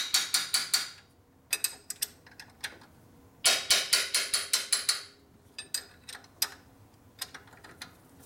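A ratchet wrench works on a 1967 Harley-Davidson 74ci Shovelhead FLH engine during a rebuild. Rapid ratcheting clicks come in bursts of several strokes with short pauses between them, close and crisp.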